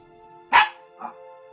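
A dog gives two barks outdoors at night, a sharp loud bark followed about half a second later by a softer one, over a faint steady hum.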